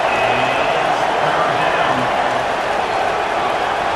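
A football stadium crowd at a college game between Colorado and Georgia Tech roars in a dense, continuous wash of noise, loud and unbroken throughout.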